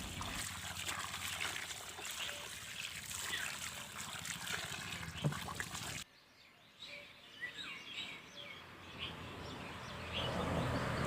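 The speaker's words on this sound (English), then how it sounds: "now give your tomatoes a good wash to remove any dirt or impurities." Fresh tomatoes washed by hand in water: trickling and splashing close by, then a sudden drop to quieter dribbles and faint splashes before the water swells again, with faint bird calls in the background.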